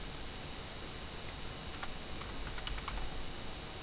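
Typing on a computer keyboard while entering a web address: a short run of light key clicks in the second half, over a steady background hiss.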